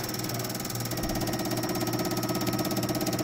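Fuel injectors fire on a flow test bench, a fast, steady mechanical ticking and buzzing that runs continuously and fairly loud with no talking.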